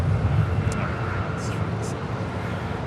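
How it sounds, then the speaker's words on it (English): A United Airlines Boeing 757-300 jet departing Los Angeles International Airport for Chicago O'Hare, a steady broadband engine roar at a moderate distance, heard alone without talk. "That is United Airlines flight 1400 departing to Chicago O'Hare"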